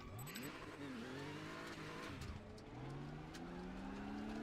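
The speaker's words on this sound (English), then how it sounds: "that's traction control kicking in there" A DTM race car in the Raceroom sim racing game, its engine note rising and stuttering as traction control cuts in on acceleration, with rising pitch sweeps and a steady loud drone throughout, no voices.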